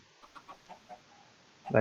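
Chickens in a Minecraft-style modded game give a handful of short, soft clucks in an irregular rhythm, followed by a louder, brighter burst at the end. A faint voice talks in the background.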